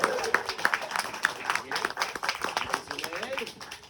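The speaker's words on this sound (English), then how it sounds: "Give her a round of applause" A small audience claps and cheers after a magic trick, bursts of applause rising and thinning over a few seconds with scattered whoops.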